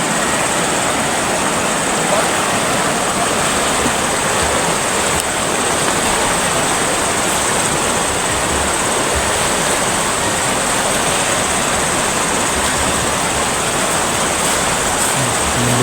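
Steady broadband rush of a river flowing, loud and continuous throughout with no clear talk over it.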